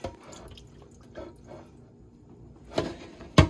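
Cold tap water with lemon juice runs and splashes over shrimp being rinsed in a kitchen, with a low trickle and a few sharper splashes near the end, close and fairly quiet.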